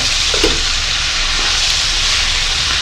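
Sambar simmering and frying in a pot as sambar powder and salt are stirred in, a loud continuous hiss with a couple of faint scrapes of the spoon.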